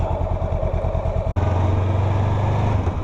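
An Indian Superchief motorcycle engine thumps nearby with a steady, loud, low pulsing idle. A brief cut breaks it partway through, then a smoother, deeper drone continues.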